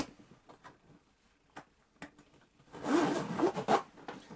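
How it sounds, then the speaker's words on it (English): A sturdy Riri M10 zip on a luxury leather bag being pulled open, a rasping run of dense zipper teeth after a few soft clicks and handling taps, fairly close and clear, with no talking. "so it's an M10 Riri zip, so it's rather stout"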